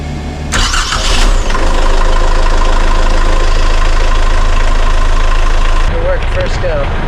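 A boat engine fitted with a replacement starter motor cranks briefly and catches, then settles into a loud, steady rumbling idle, with a voice speaking near the end.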